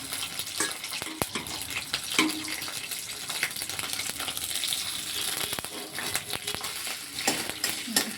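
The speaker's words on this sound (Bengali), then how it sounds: "এই তেলটার মধ্যে এই আদা বাটাটাকে দিয়ে দেবো" Ginger paste frying in hot oil in a pan, a steady broadband sizzle with scattered sharp clicks and scraping stirs throughout, fairly close and continuous, with no talk.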